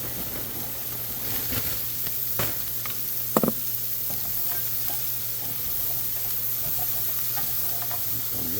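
Frozen broccoli sizzles and crackles in a hot pan with a steady, dense hiss. A few sharp knocks and scrapes of stirring break through near the middle, and there is no talking.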